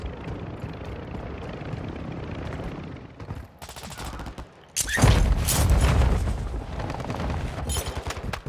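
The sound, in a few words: helicopter in a military shooter video game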